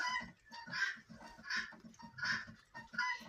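Bantam hens cluck in repeated bursts roughly every three quarters of a second, close by, with steady heavy rain pouring in the background.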